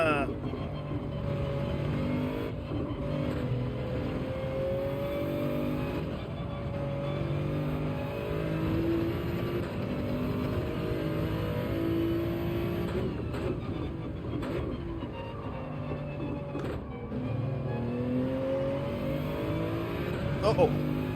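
Race car engine in Gran Turismo 7 during a Manufacturers Cup race at Spa, droning and revving steadily throughout with shifting pitch, under a voice talking.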